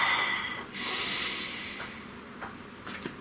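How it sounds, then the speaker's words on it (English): A person draws a deep breath, a long airy hiss of inhalation followed by softer exhaled breaths, close and quiet with no talking. "Please take a nice deep breath."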